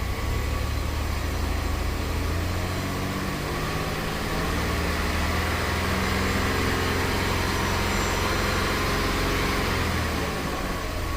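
A 2006 Pontiac Montana's 3.5L V6, with lean and mass airflow sensor faults, drones steadily and loudly close by as its RPM is raised, the engine's pitch shifting under a constant hum.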